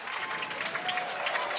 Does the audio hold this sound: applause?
yes